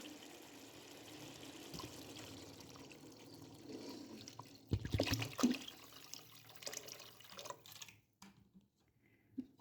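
About 1.5 litres of water is poured into a cooking pot for spicy quail sobat, making a quiet trickle that swells into a louder, splashy burst before fading to drips, with no talking.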